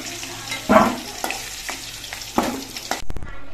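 Potatoes frying in oil as salt is sprinkled in, a steady sizzle broken by several louder scraping stirs, close and without talk, ending in a few sharp clatters.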